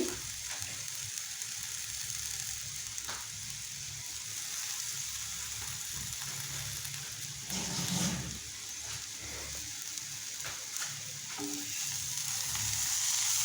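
Coriander leaves being stirred into a frying curry in a pan, a continuous close sizzle with occasional scraping stirs and soft clatter, steady throughout with a slight rise toward the end.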